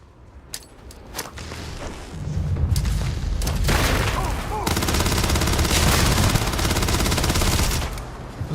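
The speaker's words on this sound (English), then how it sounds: "Those grenades don't actually do that much." Explosions and gunfire from grenades and guns in the sci-fi video game Starfield: sharp booms and shots early, then a loud, dense fusillade of rapid fire that holds steadily to the end.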